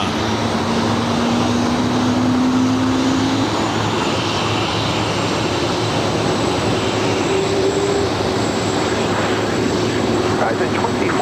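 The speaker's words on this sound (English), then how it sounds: "Another 777 going all the way to Lima." A Boeing 777 airliner at LAX roars steadily with a loud, sustained jet-engine drone carrying a faint rising whine, while air traffic radio chatter plays over it.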